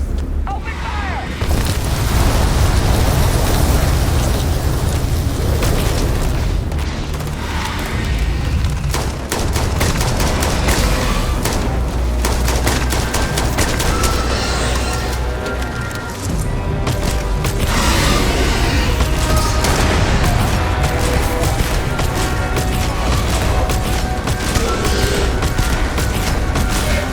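Heavy, continuous gunfire and booming blasts from a sci-fi space shooter game fill the whole stretch, loud and dense, with a voice calling out over the din.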